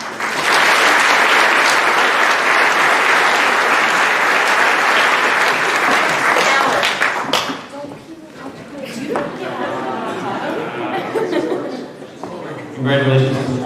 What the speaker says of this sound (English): Congratulations to all of our fall MVPs. Another round of applause.